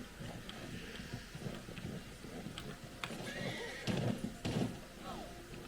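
A horse in Red Dead Redemption 2 whinnies amid clopping hooves and game ambience, with a person talking over it at low volume.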